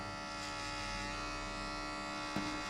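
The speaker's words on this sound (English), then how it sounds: "Next step, get your shaver and shave halfway." An electric shaver buzzes steadily through hair during a burst fade haircut at a barbershop, a close, continuous hum with a brief knock near the end.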